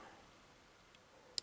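A lock pick sets a pin in a challenge lock during single-pin picking, one faint tap followed by two sharp close clicks at the very end after quiet handling noise.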